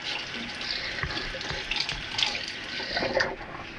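Tap water runs steadily into a kitchen sink as peeled potatoes are rinsed, a continuous close splashing rush with slight changes as the potatoes move under the stream, and no talk.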